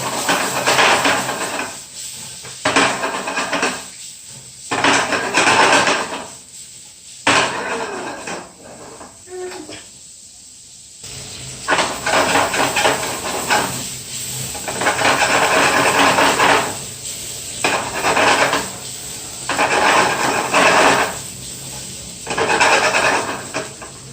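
Garlic prawns sizzle in a pan over a high flame, with bursts of hissing frying that surge and ease repeatedly, mixed with clinks and scrapes of stirring.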